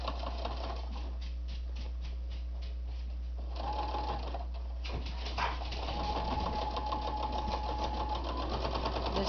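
A sewing machine stitches a fabric bowl cozy with rapid, steady mechanical chattering in bursts, pausing briefly midway before running again. It sounds close and moderately loud.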